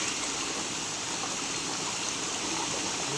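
The Karavalli waterfall in the Kolli Hills crashing in a steady, unbroken roar of rushing water, constant and full throughout with no voices.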